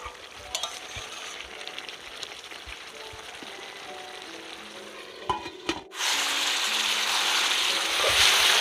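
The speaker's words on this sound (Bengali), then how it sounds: "তো এটা ধীরে ধীরে একটু কষাতে হবে, কষিয়ে কষিয়ে রান্না করতে হবে।" Yogurt-marinated chicken slowly stir-fried in oil for Bengali chicken kosha, a steady soft sizzle with faint stirring clicks that swells into a louder, brighter frying hiss near the end.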